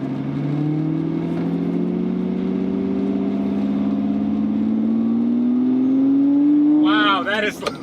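A Lamborghini's naturally aspirated V12 pulls loud and close from inside the car, its pitch climbing steadily over several seconds before a gear change drops it briefly.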